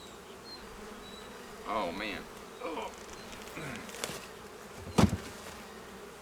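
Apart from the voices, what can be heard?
honey bees flying around a hive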